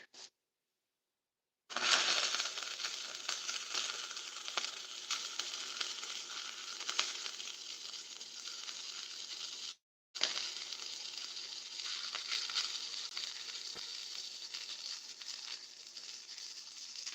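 A small DC inverter arc welder crackles and sizzles in a blacksmith shop in a long steady hiss, a short blip first, then nearly eight seconds of arc, a brief break, and another sustained run.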